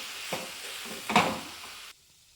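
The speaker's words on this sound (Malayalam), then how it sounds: "ഈ മിൽക്കി മേഡ് എല്ലായിടത്തും എത്തുന്ന രീതിയിൽ ഇളക്കി കൊടുക്കണം" A sweet mixture with condensed milk (Milkmaid) is stirred in a pan, giving two short scraping, sizzling strokes close by, then the sound drops away to near silence.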